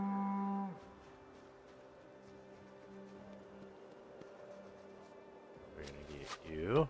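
Cattle in the Project Zomboid game low with long, droning moos, one loud near call at the start and another rising at the end, with a voice talking in between.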